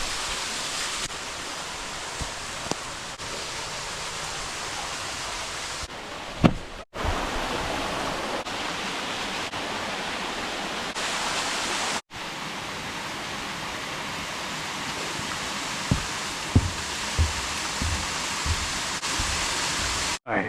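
Calcutta Falls, a waterfall near Auburn, California, roars as a steady broadband rush of falling water, loud and continuous with brief dropouts and a few faint knocks nearby.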